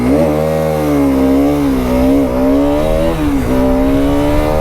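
A KTM RC200 motorcycle engine drones loud and close while riding, its rasping note holding steady with small rises and dips in revs, and no talk over it.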